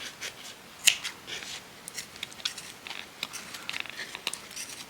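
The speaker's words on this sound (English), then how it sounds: "Nice sharp pair of scissors" Sharp pair of scissors snipping off the ends of knotted material in a craft project, a few crisp quiet clicks and snips with soft rustling between them, close and faint, no speech.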